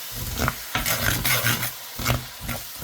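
Popcorn chicken being stirred with a pink spatula in a hot pan, giving a steady scraping and shuffling with a soft sizzle underneath, close and fairly loud, no voices.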